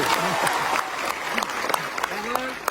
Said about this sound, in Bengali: একটা হাততালি দিতে হয় না